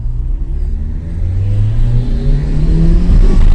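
A 1.0-litre car engine revs up loud and close, with a rising turbo-like whoosh that builds steadily over a few seconds and no talking.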